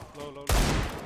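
Counter-Strike gunfire on the Mirage map, a sudden loud burst of rapid shots cutting in after a moment of quieter game ambience, with a player's voice briefly audible.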